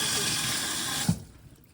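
Tap water runs steadily into a kitchen sink for hand washing, a close, full hiss that cuts off abruptly after about a second, leaving a faint dripping, quiet tail.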